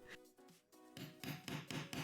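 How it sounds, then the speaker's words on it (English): Metal eyelets are hammered into fabric with an eyelet setting tool and hammer, a steady series of quick, close, sharp taps in a regular rhythm, with no talking. "use the eyelet tool and my hammer to, hammer those things in"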